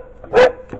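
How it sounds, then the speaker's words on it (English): A dog gives a single sharp, loud bark at close range indoors during a Bigfoot research discussion, with a man's brief remark heard around it. "I apologize for the dogs."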